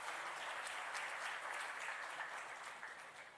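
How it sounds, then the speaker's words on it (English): Sustained audience applause at a city success-stories event: a thick wash of many hands clapping together, fairly distant and steady throughout, fading a little toward the end. "let's give everybody a big round of applause"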